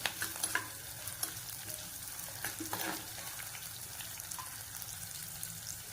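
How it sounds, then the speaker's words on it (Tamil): Fenugreek seeds frying in oil for a garlic kuzhambu give a faint, steady sizzle with a few small crackles at the start, close and alone. "இந்த அளவு வெந்தயம் வந்து சேர்த்துருக்கேன் இப்போ இது நல்லா பொரிஞ்சுக்கணும்"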